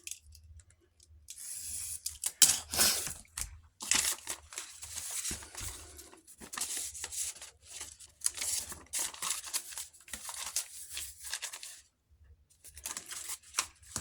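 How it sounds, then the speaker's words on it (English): Scissors snipping and trimming craft material at a desk, a close run of irregular crisp cuts and rustling crinkles, with short pauses between them. "I think I'll just cut that a bit shorter."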